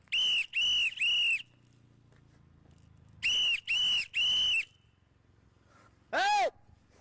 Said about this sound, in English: You blow your whistle 3 times to let people know that ICE is here.